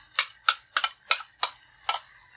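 Vegetarian fermented sauce stirred into a pan of seasoned tofu for fried vegetarian mắm, heard as six sharp, evenly spaced scraping clicks of a utensil against the pan, close and clear with no talk.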